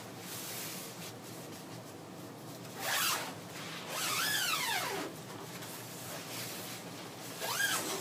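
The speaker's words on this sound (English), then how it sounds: "The zipper is a number 5 zipper." A number 5 zipper running around a hammock is pulled in several long, rising strokes, close and crisp, with short pauses between pulls.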